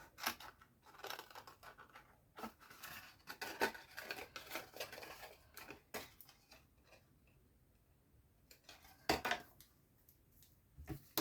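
Scissors cut through Stampin' Up! Easter Joy designer paper to make an Easter fry box, with close, quiet snips coming in irregular bursts separated by soft pauses.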